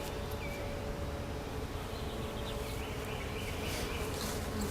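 Honey bees buzz around an opened wooden hive box, a dense continuous drone with individual bees whining past nearby, steady and close with no speech.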